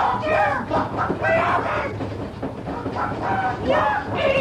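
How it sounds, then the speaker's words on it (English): A live chicken clucks and squawks in a comedy sketch about a microwave. Choppy, rising cluck calls repeat close and fairly loud throughout, mixed with a busy background and some voices. "You used a live chicken!"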